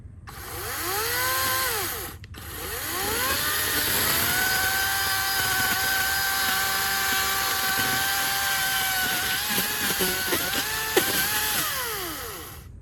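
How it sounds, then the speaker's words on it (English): A chainsaw cuts through wood in a yard, its engine whining in sustained loud runs that dip and rise in pitch as the blade loads, with a brief pause near the start and no talking. "Check your chainsaw oil as you're chainsawing."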